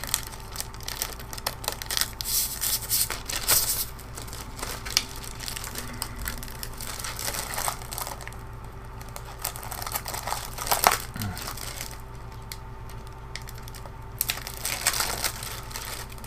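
Plastic protective film peeled off a plastic game protective case, crinkling and crackling in uneven bursts with soft pauses between pulls, close and fairly quiet.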